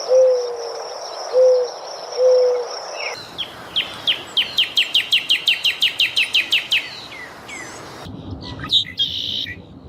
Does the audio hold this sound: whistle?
no